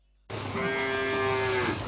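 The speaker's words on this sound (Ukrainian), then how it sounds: "А тут живе корова Каріна, відома на всю Україну бунтівниця." A single cow on a village farm in Ukraine in winter lets out one long, loud, sustained moo close by, steady in pitch and with no talk over it.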